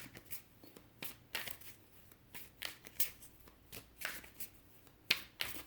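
Tarot cards shuffled and drawn, a quiet series of crisp riffling and flicking bursts with sharp snaps of individual cards, close to the microphone and faint overall.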